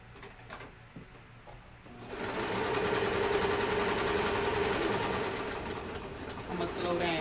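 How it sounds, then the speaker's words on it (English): A serger sewing machine starts up after a couple of seconds and whirs continuously at high speed, fairly close, with light handling noises before it begins. "So put it on my serger."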